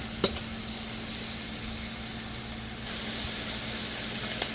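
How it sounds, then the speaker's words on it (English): Garlic frying in a pan for a sausage and seafood paella, giving a quiet, steady sizzling hiss with a couple of small clicks near the start and one near the end. "So I just added my garlic to this. I'm gonna allow that to fry up in there for a bit."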